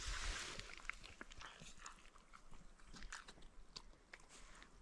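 A dog chewing smoked trout outdoors near a waterfall, with soft wet crunching and biting sounds over steady rushing background noise, close but quiet.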